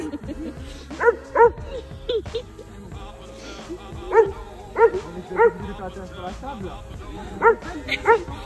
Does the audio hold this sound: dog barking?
yes